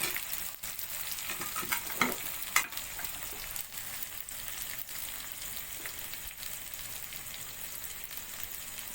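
Clams stir-fried with curry chili paste in a pan give a steady, dense sizzle throughout, with a few louder clicks and scrapes of stirring near the start and no voices.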